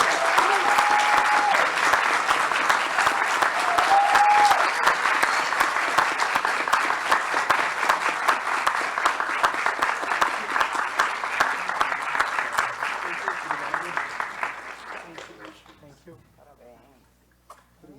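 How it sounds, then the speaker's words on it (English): Crowd applause for the winner at a legal tech venture event in São Paulo, loud, sustained clapping that builds and then thins out and fades over the last few seconds, with a few voices briefly heard. "and the winner is, a round of applause,"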